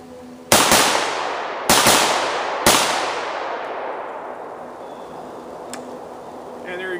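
Three loud, sharp shotgun blasts from a VEPR-12 fitted with a muzzle brake and other modifications, spaced about a second apart, each trailing off in a long echoing decay outdoors.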